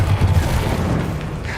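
A Descendo spell lands a heavy slamming impact in Hogwarts Legacy, with a loud low boom and rumbling burst up front that decays over about a second and a half of dense game noise.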